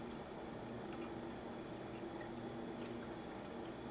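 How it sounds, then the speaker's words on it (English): BahHumbug Christmas beer being poured into a glass, a steady low liquid rush and fizz running continuously and fairly quietly throughout. "I'm going to give it a pour here."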